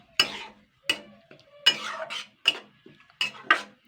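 Semolina dough being stirred in a pan for a Bengali sweet, a series of firm scraping spoon strokes against metal, about eight bursts in uneven rhythm, close and distinct with quiet gaps between.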